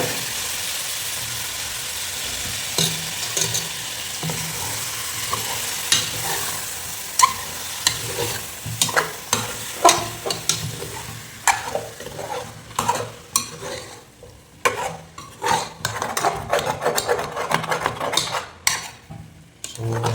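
Mutton pieces go into a pot for potato mutton dum biryani and get stirred, a steady frying sizzle under repeated scraping and clanking of a spoon against the metal pot, the knocks growing busier and louder toward the end.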